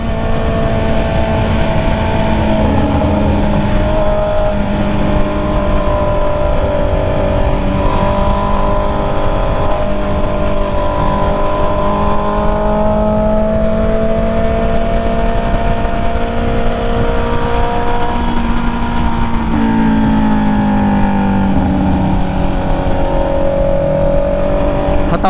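A Honda CB650R motorcycle fitted with KSPP velocity stacks runs loud and close, its engine drone rising and falling in pitch through several revs, with no talking.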